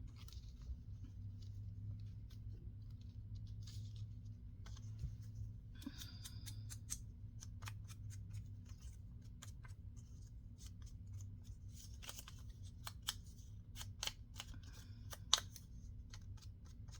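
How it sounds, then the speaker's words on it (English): Scissors snipping out a paper girl figure, a series of faint, close, crisp cuts arriving in irregular clusters over a quiet room hum. "I need to cut out her."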